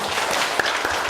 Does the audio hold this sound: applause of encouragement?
yes